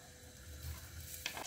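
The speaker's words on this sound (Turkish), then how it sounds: "Soğan ve sarımsaklarım pembeleşinceye kadar kavuruyorum." Onions and garlic sauté in olive oil in a pot, giving a quiet, steady sizzle with soft stirring and a small clink near the end.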